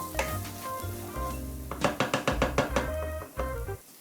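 Curry paste for a fish curry sizzles and fries in a pan, a steady close crackle with a few sharp knocks and scrapes of a utensil stirring against the pan.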